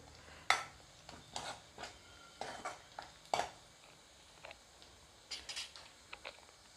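Onion fries quietly in a pan: a low sizzle under a handful of sharp, brief scraping and clinking stirs spread irregularly across the stretch, with no voices.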